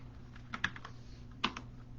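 A computer keyboard being typed on: a few soft, separate key clicks in two small bursts, quiet and close against a faint steady hum, with no talking.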